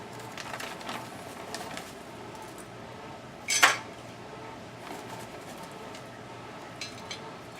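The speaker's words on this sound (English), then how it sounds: "we're gonna put us some wood inside of our chip holder" Wood chips dropped into the metal chip holder of a barbecue smoker while beef back ribs cook: one brief, bright metallic clatter midway through, set against quiet background hiss and a few faint knocks.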